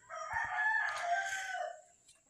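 A single gamefowl rooster crows loudly and close, one drawn-out call lasting over a second, with faint clucking of hens in a breeding pen around it.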